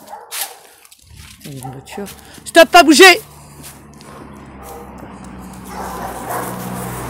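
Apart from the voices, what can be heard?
kennel dogs barking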